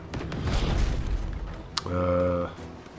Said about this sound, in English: Okay, so it's grape shot, anti-personnel weapon.